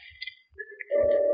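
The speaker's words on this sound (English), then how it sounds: "I put the phone down and dial." Telephone dialing sound effect from an old-time radio drama: a short sequence of clicks and tones, then a loud, steady buzzing tone holding to the end, with no voices.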